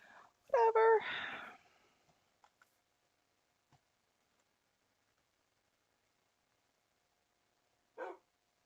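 A dog in a video game gives one short, clear bark near the start, followed by long near-silence with a few tiny clicks and one brief sound near the end.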